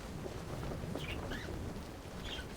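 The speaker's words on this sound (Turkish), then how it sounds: "Bu arada arka tarafta muhabbet kuşunun sesi var." A pet budgerigar chirps faintly in the background, with a few brief, high chirps scattered over a steady wash of noise.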